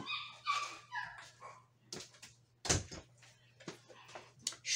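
A female dog whines and yips in short high bursts, then gives a few sharp barks and a whimper, close by in a quiet room with a faint steady hum underneath.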